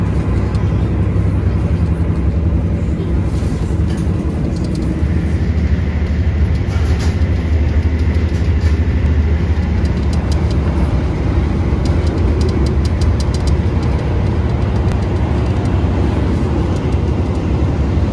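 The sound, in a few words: Argo Bromo express train passing through Cikarang station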